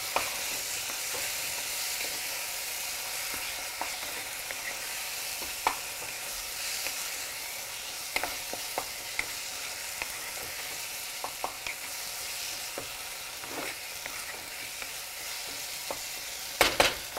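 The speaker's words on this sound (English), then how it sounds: "Mix it really well and saute it till the raw flavor from the spices have gone" Spices for rajma curry sizzle in a pan with a constant bright crackle, broken by occasional sharp clinks and scrapes of a stirring utensil, close and continuous without speech.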